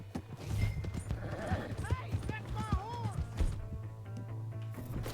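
Horse hoofbeats from a mounted chase in Red Dead Redemption 2 clatter in a steady galloping rhythm beneath game dialogue and music, with a whinny rising partway through.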